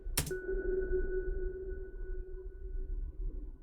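Single MIDI instrument note struck in Pro Tools, sent through a reverb plugin: a sharp attack followed by a steady sustained tone that rings on and slowly fades over several seconds, alone with no talking.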